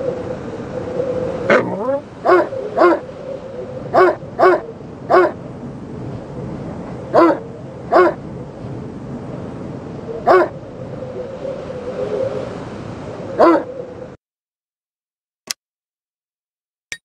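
Short sharp dog barks from the game C&C: Red Alert, about a dozen single yips spaced irregularly over a steady ambient game hum, then near silence with two faint clicks at the end.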